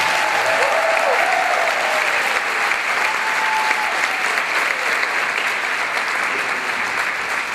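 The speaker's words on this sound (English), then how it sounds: "let's give it a big round of applause" Audience at an award ceremony applauding the actors, a dense, steady wash of many hands clapping with no break throughout, a few faint cheers rising briefly above it.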